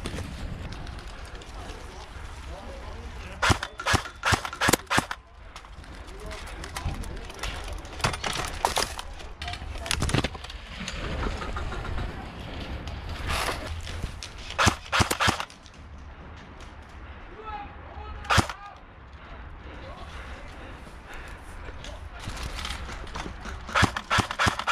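Gunfire in a first-person shooter video game, a garbage-tier gun firing from an exposed spot with little cover: sharp cracks in short bursts and single shots, recurring loudly over a continuous busy game-sound bed with talk throughout.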